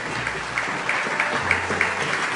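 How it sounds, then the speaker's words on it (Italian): Italian live TV studio audience clapping for the guests and an author's book, a short steady patter of applause with a few sharper claps, moderately loud. "Un bel applauso alle nostre ragazze e al libro del nostro Garcia."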